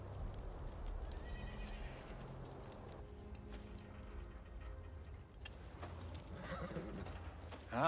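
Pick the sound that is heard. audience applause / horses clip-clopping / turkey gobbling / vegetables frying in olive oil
horses clip-clopping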